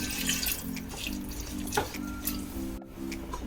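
Water pours steadily into a cooking pan for Kerala-style madhura pachadi, a continuous splashing rush that runs throughout with faint clinks over it.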